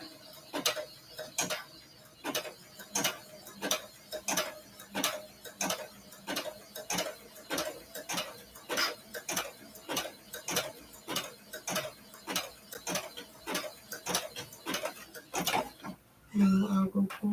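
Sewing machine stitching a zigzag in reverse, a quick even train of sharp mechanical ticks and clacks close up, ending in a brief louder burst.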